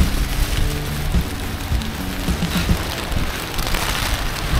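Heavy rain pours during a food delivery ride in Bangkok, a dense, loud hiss of drops mixed with wind buffeting and low road rumble, continuous throughout with no speech.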